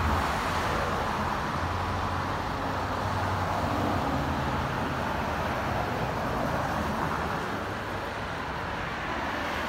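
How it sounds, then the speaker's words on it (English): Steady traffic at a school crossing stoplight, cars moving along the street at a fairly rapid pace, forming a continuous loud roadway rumble with no distinct individual passes and no talking. "here are cars moving at a relatively rapid pace"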